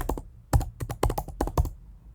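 Keys clatter on a computer keyboard in quick irregular bursts of close, crisp taps with short pauses between, while setting up a web application deployment on AWS EC2; no voices.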